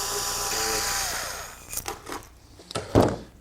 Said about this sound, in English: turn it with the electric drill